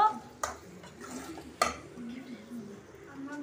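A spoon scrapes and clinks against a pan while bread halwa is mixed, with two sharp metallic knocks over a soft background murmur.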